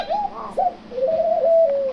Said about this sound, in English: Now notice the ring doves.